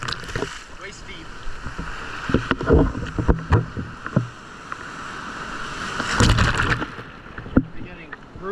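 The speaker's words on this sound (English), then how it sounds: "I'm getting brutally punished by these waves." Ocean waves surge and crash around someone standing waist deep in the surf at Mustang Beach near Port Aransas, Texas, loud and close, with repeated splashing hits and a swelling roar, and a person talks between the waves.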